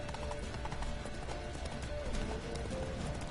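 Rhythmic clip-clop of a horse's hooves in Witcher 3 around Novigrad, even and unhurried, close up and layered over steady in-game background ambience, with a faint voice at moments.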